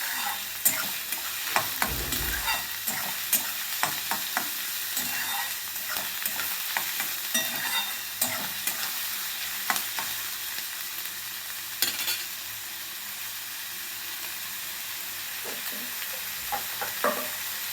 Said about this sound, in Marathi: हा कांदा आपल्याला लालसर भाजून घ्यायचा आहे, मऊ होईपर्यंत.